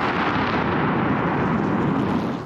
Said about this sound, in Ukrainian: Вибухотехніки її дистанційно підірвали.